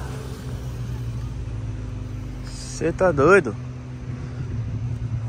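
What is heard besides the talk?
many lowered cars passing at a car meet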